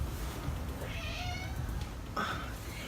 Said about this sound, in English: Oh, my cat's coming.